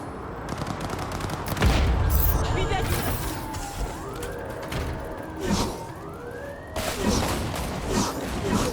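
Gunfire in the video game Cyberpunk 2077 during a police chase, with bursts of shots over wailing police sirens and game voices talking.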